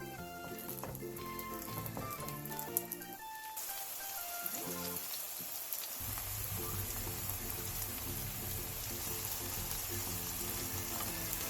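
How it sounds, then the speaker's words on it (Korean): Skewered Korean sanjeok fries in an oiled pan over low heat, giving a steady crackling sizzle. The sizzle thickens into a denser, fuller hiss about halfway through. No one speaks. "팬에 기름을 두르고 산적을 올려 약불에서 부쳐주세요."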